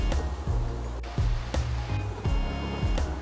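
A small stream flows steadily, its broadband watery rush filling the scene close by, with a few low knocks and murmurs mixed into the continuous flow.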